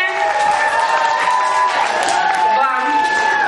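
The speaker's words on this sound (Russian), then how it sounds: "Аплодисменты." A lively audience at a children's summer camp quiz event claps and cheers steadily, the applause dense and continuous with a few whoops rising over the crowd noise.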